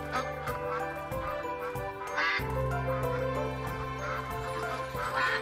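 Ducks quack repeatedly in quick, overlapping calls, several birds close by, a busy continuous chorus with no talking.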